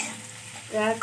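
Oil sizzling in a pan with a brief stirring scrape, steady frying noise throughout, close and moderately loud.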